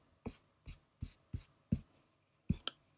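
A pencil moves over a sketchbook page while drawing circles, giving six or seven soft, evenly spaced scratchy strokes, close and quiet, with no talking.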